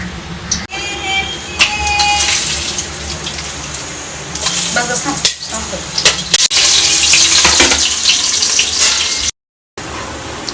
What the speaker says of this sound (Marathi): आत्ता मी बनवते कोलबी फ्राय करून बनवते आता मी याच्यामध्ये तेल टाकून घेते